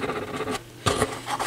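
Voice coil of an Altec Lansing Valencia 846B woofer rubbing as the cone moves, a close, scratchy, raspy scraping in uneven bursts with a brief pause midway.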